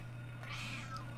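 A single cat meows faintly in a PlayStation Silent Hill game, one short rising-falling cry over a steady low hum.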